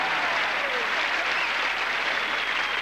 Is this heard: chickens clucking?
no